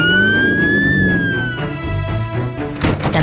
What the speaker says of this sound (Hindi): दमकल की गाड़ियां और एम्बुलेंस फरिश्तों की तरह पहुंचती हैं।